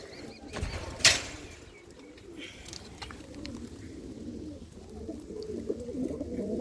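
Soft low cooing of pigeons in a coop, close by, with a brief burst of wing flaps early on.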